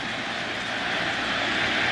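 Large crowd at a baseball stadium roaring steadily after a Giambi home run during Game 7 of a Red Sox versus Yankees playoff game, a loud, continuous wash of cheering with no breaks.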